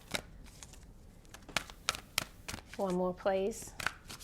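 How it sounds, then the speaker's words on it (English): Tarot cards are shuffled in quick crisp riffles and snaps, several bursts spaced across the moment, with someone speaking briefly in between. "I'm going to shuffle and we'll pull the cards"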